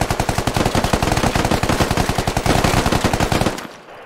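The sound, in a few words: gunfire and reloading in the video game Squad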